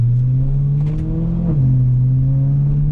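A BMW E93 M3 V8 engine gives a loud, steady drone with a deep low hum, dipping briefly midway then holding a constant rumble, close by.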